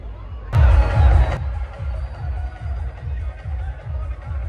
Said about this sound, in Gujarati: અહીંયા હજારોની સંખ્યામાં ભક્તોની ભીડ છે